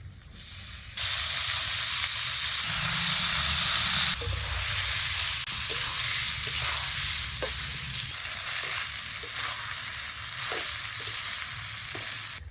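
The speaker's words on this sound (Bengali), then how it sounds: "ধুয়ে নেওয়া চালগুলো কড়াইতে দিয়ে নিতে ভাজা ভাজা করে নেবো" Washed rice with tomato and salt fries in a wok, opening with a loud hissing sizzle that settles into a steadier fry punctuated by repeated scraping stirs.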